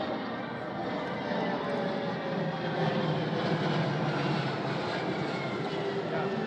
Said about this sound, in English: KC-46 overhead. Look at that.